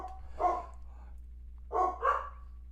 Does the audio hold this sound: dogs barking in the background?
yes